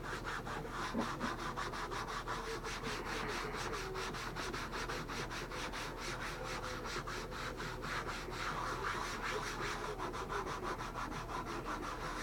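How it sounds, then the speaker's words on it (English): Steady, even rubbing scrubs spray paint off a plastic Jeep bumper, a continuous close abrasive swishing in a rapid back-and-forth rhythm throughout. "Just light rubbing, no hard rubbing."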